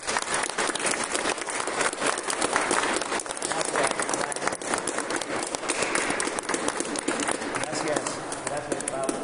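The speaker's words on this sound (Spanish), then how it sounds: "Un aplauso al Señor." An audience at a Lenten evening talk in a church breaks into dense, steady applause. The clapping is loud and continuous throughout, with voices mixed into it.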